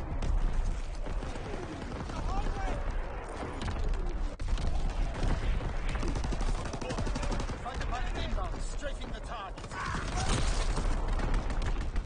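An artillery battery fires in the Call of Duty WW2 multiplayer game, a dense, loud run of booming shots and crackling gunfire in overlapping bursts over a busy battlefield soundscape.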